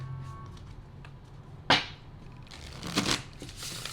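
Tarot cards shuffled close by in a quiet room, a soft riffle followed by a sharper burst of flicking and a second, longer riffle, with no talk.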